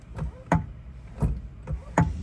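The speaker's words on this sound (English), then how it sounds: "If it sounds like this when you press your clutch down, it's most likely the pedal pad is disintegrated." Repeated dull clunks and knocks at roughly even intervals as a clutch pedal with a disintegrated pedal pad is pressed, thudding under a faint background hum, close and moderately loud.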